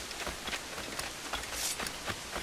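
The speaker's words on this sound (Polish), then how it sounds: "Oczywiście deszcz musi padać." Steady, dense rain falls in Assassin's Creed 4 Black Flag as a continuous hiss with soft scattered patters, heard faintly and alone throughout.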